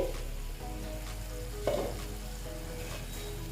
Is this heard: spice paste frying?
yes